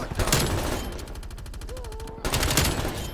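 Rapid automatic gunfire in the Call of Duty Black Ops Cold War multiplayer video game, a dense burst of evenly spaced shots filling the middle of the clip between louder chaotic game noise, with no talk over it.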